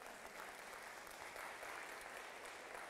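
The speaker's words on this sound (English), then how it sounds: "I think that gets a round of applause" Church congregation applauding, a dense and even wash of many hands clapping, faint and somewhat distant, holding steady throughout without voices.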